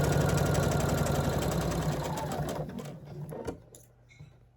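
A sewing machine runs fast and steady, stitching strips for a quilt block, with a loud close mechanical whir that slows and stops, followed by a few quiet clicks and handling noises.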